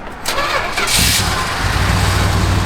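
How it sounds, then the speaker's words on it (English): A 1979 International Scout 4x4 engine cranks briefly and fires up, then settles into a loud, steady idle close by with no talk. "I'm gonna fire it up."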